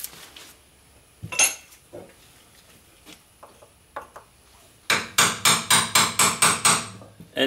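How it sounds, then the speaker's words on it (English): Chisel struck with a hammer to tap out an old transmission output shaft seal on a Ford E350 van: scattered metallic taps at first, then a rapid run of about eight loud, evenly spaced ringing blows, close up. "I'm gonna have to use a chisel to tap this old one out."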